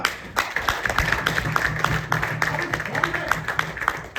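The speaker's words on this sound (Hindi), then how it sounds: "तालियां" Audience applause at a business seminar, scattered claps under a hum of voices and talking, at moderate loudness.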